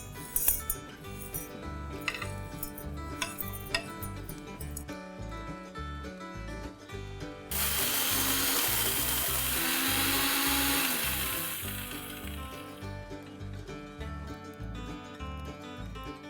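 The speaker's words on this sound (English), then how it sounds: "I will be pulse grinding the spices into a fine powder." Electric spice grinder pulsing roasted pickle spices into fine powder in a home kitchen, a harsh whirring burst of several seconds rising over steady background music, with quieter clatter before and after.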